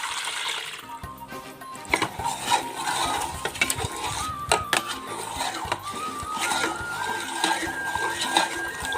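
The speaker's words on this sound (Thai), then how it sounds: "นำแป้งแล้วก็กะทิ ละลายให้เข้ากันค่ะ" Flour and coconut milk being stirred together for the topping of Thai coconut pudding (tako), with soft swishing and scraping of a utensil in the bowl, irregular clinks, and occasional faint tones.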